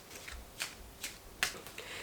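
A deck of playing cards being shuffled, heard as a few short, soft riffling bursts spaced apart in a quiet room, with no talking.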